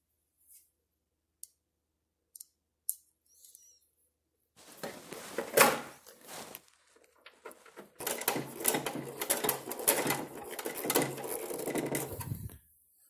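Screws are driven to fasten an ice crusher housing cover onto a Frigidaire refrigerator, model FGHS2631PF3; a few faint clicks come first, then rattling, whirring driver bursts that run on steadily, close by with no talk.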